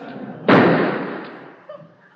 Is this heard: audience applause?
no